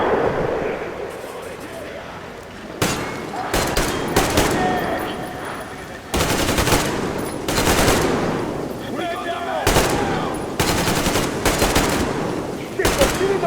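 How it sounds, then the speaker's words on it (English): Loud bursts of automatic gunfire in Metro Exodus hammer the railway track in repeated sharp volleys over a continuous rumble, broken by brief pauses, while voices shout over the shooting. "Shit, they're shooting the fucking track!"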